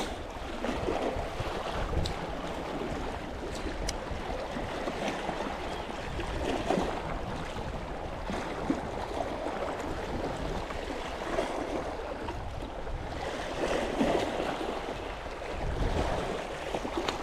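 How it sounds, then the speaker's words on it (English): Fast tidal water rips past the rocks on the Anglesey shore, a steady broadband rush and slosh lasting throughout, mixed with gusty wind buffeting the microphone, with no voices. "the tide is proper ripping here"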